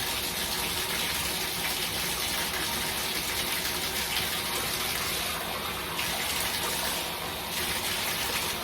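Tap water pours steadily into a bathtub that was just unclogged, a loud continuous gush filling the tub for several seconds with no one speaking.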